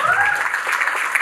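Live audience applause for actor Naseeruddin Shah at a public event: a short, dense burst of clapping with a voice faintly over it.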